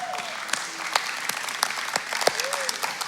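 A church congregation applauding during a service, steady sustained clapping from a gathered crowd with some voices and chatter mixed in underneath, moderately loud throughout.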